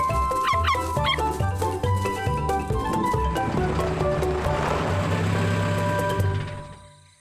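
Cartoon Tasmanian devil crying out from inside a burrow, a run of repeated yelping, whimpering barks with music underneath, fairly loud and close, fading out at the end.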